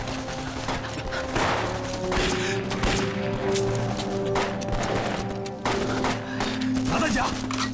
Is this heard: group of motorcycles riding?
no